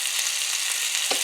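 Minced ginger frying in a hot pan, a steady hiss of sizzling oil that carries on throughout, with a brief scrape of stirring near the end.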